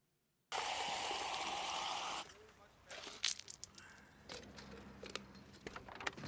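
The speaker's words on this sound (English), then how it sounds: "Did you just pour out the refill?" A refill drink is poured out in one loud, steady gushing burst of liquid lasting about two seconds, followed by faint rustling and small clinks.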